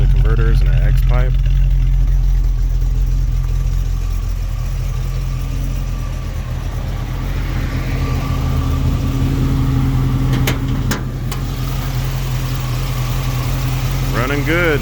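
A 1955 Chevy hardtop engine with Holley EFI idles close by through a MagnaFlow exhaust with catalytic converters and an X-pipe, a steady low rumble, with brief talk and a few faint clicks over it.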